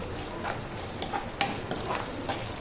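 Ginger garlic paste frying with golden onions in a pan for an aloo carrot fry, a steady sizzle with sharp clinks and scrapes of a spoon stirring against the metal at irregular intervals.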